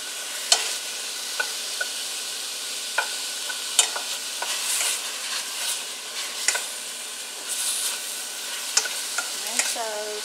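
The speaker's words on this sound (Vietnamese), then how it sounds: "Xào sơ xăng lại mình chế nước vô thôi." Pork ribs stir-fried in a pot at home, a steady sizzle with scattered scrapes and clinks of a utensil stirring, alone and close without any talk.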